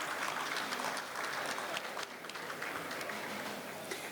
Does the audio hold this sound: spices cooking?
no